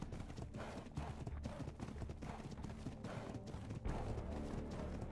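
Horse hooves clip-clopping in a roleplay video game, a fast, steady galloping rhythm heard up close at moderate loudness through the whole stretch, with no talk over it.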